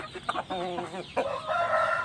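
A six-month-old Thai Ngon-tail rooster clucks close by, a few short, throaty calls followed by a longer drawn-out note.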